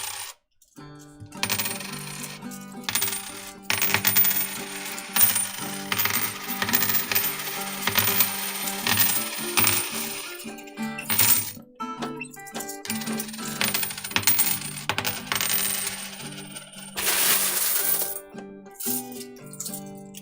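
Coins spill onto a coin pusher machine's playfield in random orientations, making continuous dense metallic clattering and tinkling with bursts of heavier jingling throughout; no one talks.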